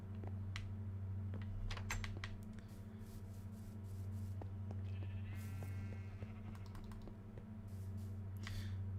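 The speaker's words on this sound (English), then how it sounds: "It was a black sheep." Sheep in the Minecraft video game bleating in brief, faint calls amid scattered clicks and a constant low electrical hum.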